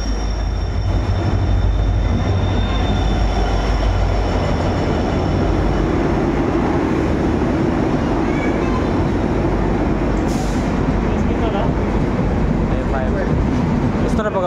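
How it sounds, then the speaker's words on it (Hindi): A passenger train pulls into a station platform in India with a loud, continuous rumble of wheels and carriages and a faint high squeal, while voices murmur in the background. "हमारा ट्रेन फाइनली आ चुका है"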